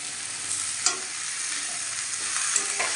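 Eggplant with turmeric, chilli powder and ground cumin paste stir-fries in a pan, giving a close, dense sizzle with a few brief scraping stirs and no voices.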